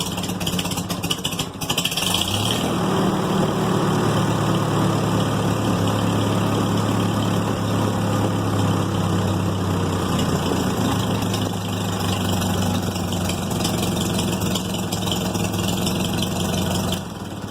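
An old tractor engine with an incorrect low idle starts and then idles with a steady, low, throbbing rumble, heard up close and continuously without talk.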